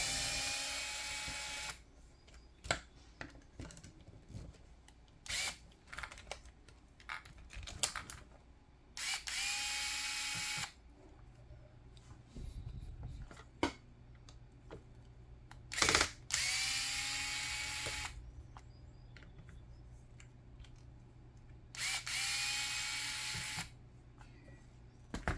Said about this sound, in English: 4 more screws at the diff housing, and I think we can take this apart.